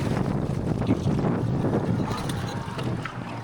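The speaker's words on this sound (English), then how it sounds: "We've got some pretty big waves pounding in." Big waves pounding at sea under strong wind, a loud continuous rushing roar with wind buffeting the microphone, close and unbroken throughout.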